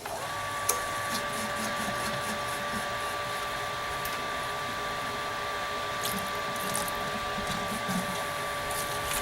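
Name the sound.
pump running to flush out brewing hoses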